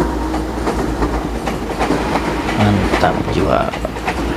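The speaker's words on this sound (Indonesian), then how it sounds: "KRL yang melintas adalah KRL JR205 menuju stasiun Rawabuntu." KRL JR205 commuter train rolls past on the line between Serpong and Rawabuntu, heading toward Rawabuntu over a bridge near a sharp S-curve; a loud steady rumble with wheel clatter fills the clip while someone speaks briefly.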